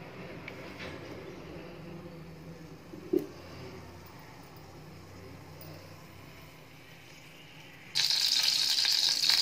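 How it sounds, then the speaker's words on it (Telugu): Oil heating in a pan for a tomato, cashew and drumstick curry gives a faint low hiss, then a sudden bright, loud sizzle bursts in near the end and keeps crackling. "కొంచెం వేడెక్కిన తర్వాత ఆయిల్ వేయాలండి"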